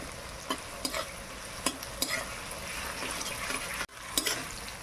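Onions frying slowly in a pan: a steady close sizzle, broken by several clicks and scrapes of a spoon stirring, with one brief drop to near silence.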